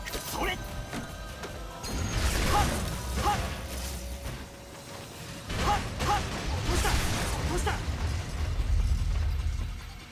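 Grenade blasts in the action game Baldr Sky, several heavy crashing bursts with whooshes and mechanical clatter in dense combat, with a voice talking over parts of it.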